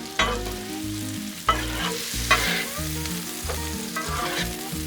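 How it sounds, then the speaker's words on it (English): Food fries loudly in bacon grease on a Blackstone griddle, a close, bright sizzle with a few sharp bursts as ingredients are stirred and shifted. "Now you know these gonna be good, cooked in that bacon grease."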